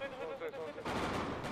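Gunfire during a video game shootout, a short burst of shots that kicks in loudly after a brief lead-in, dense and rattling for under a second.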